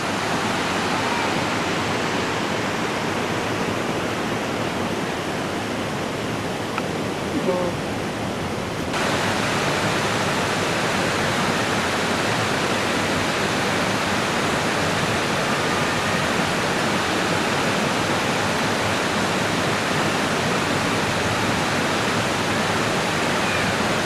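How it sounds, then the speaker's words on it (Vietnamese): A waterfall beside Linh Ung pagoda in Dalat roars loudly and without a break, a dense steady rush of falling water that fills the whole stretch. "Các bạn có thể dễ dàng nghe được tiếng thác ở sát bên chùa Linh Ứng. Tiếng ầm ầm của thác."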